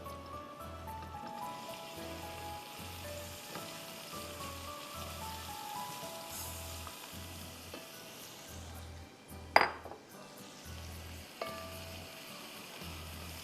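Chopped onion fries in a pan for pulao, a soft, even hiss running throughout, with a regular low pulsing hum beneath it and a couple of sharper clatters near the end.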